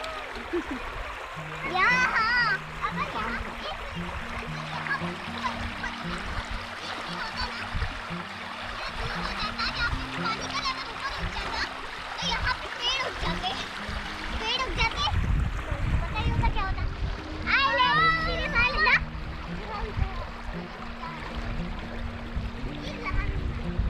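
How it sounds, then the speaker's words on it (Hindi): Water splashing continuously at Karkatgarh Waterfall in Bhabua, Bihar, with children's voices shouting and chattering nearby as they play in the water, broken by occasional high squeals. "तो पानी में खेल रहे हैं"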